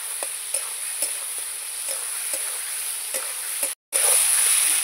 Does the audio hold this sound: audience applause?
no